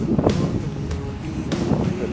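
Strong headwind buffets the microphone of a sea kayak being paddled on calm open water, a steady roaring rumble with gusty surges and faint splashes throughout.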